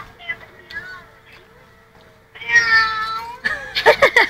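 A cat meows in short, rising and falling cries, then louder, more insistent caterwauling near the end, close by in a quiet room with faint voices around.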